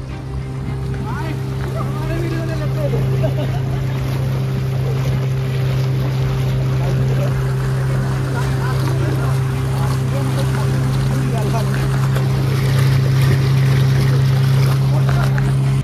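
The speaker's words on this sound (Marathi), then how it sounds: "बोट चालली." A motorboat heads out from Tarkarli beach at Malvan toward the open sea, its engine droning steadily and close. Wind and rushing water fill the background, and voices murmur faintly underneath.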